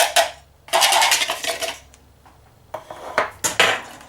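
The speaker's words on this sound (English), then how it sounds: "what we do is here we just mix it all these ingredients together" Brownie batter ingredients stirred in a bowl, with bursts of scraping and swishing from the spoon, short pauses between strokes, and a few sharp clinks against the bowl.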